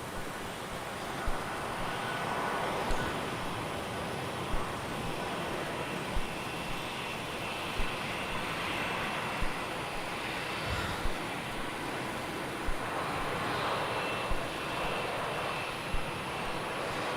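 An AirAsia jet departs off runway 27 at Melbourne Airport, its engines a broad, sustained roar that stays strong and fairly near, alone without talk, with faint regular clicks beneath.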